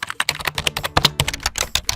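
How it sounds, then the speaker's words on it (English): Computer keyboard typing sound effect, a rapid, steady run of crisp close key clicks with slight uneven rhythm, alone without voices. "Typing."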